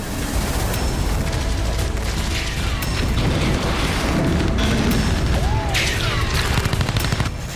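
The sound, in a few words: artillery shelling explosions in a city, Russia-Ukraine war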